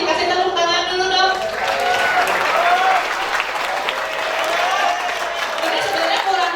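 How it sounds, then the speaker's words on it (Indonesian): Students applaud in a school hall at a vocational high school, a steady wash of many hands clapping that stays loud throughout, with a voice briefly audible at the start. "Kasih tepuk tangan dulu dong."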